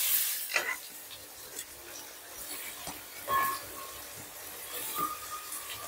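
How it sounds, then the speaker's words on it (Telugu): Chopped onion, carrot and green chilli fry in hot oil for onion samosa filling, a faint soft sizzle with scattered stirring scrapes and clinks, close but quiet, no voices. "ఆయిల్ హీట్ అవ్వగానే ఉల్లిపాయ తరుగు వేసుకుందాం"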